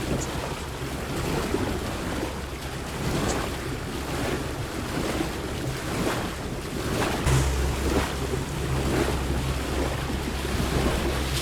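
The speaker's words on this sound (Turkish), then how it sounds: "Evet, önden geliyor dalga." Sea waves slapping against a small boat on rough water, a continuous churning wash with gusting wind buffeting the microphone, steady and close throughout.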